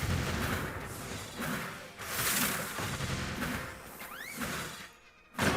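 A mortar-type Tesla unit attacks in a strategy video game. Several muffled explosive blasts and bursts sound in succession over a busy, fairly quiet game soundscape, and a short rising whistle-like effect comes near the end.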